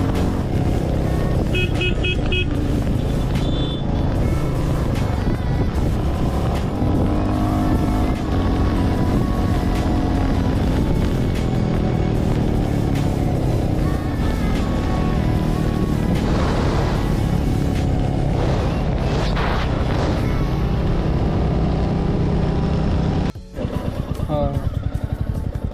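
A Royal Enfield Meteor 350 motorcycle cruises at speed through second and third gear, a continuous engine drone with wind noise while a rider talks over it.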